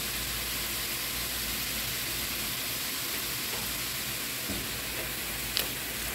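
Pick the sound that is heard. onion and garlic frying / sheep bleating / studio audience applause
onion and garlic frying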